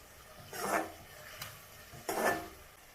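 Masala is stirred in a pan while cooking kushka, two scraping, sizzling strokes about a second and a half apart, close and moderately loud.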